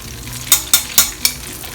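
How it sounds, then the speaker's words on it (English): Chicken pieces deep frying a second time in very hot oil, a steady crackling sizzle broken by four sharp bursts of spattering at regular intervals, close and fairly loud. "I'm going to go for a second round of deep frying"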